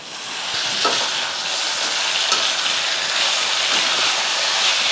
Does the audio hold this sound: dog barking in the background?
no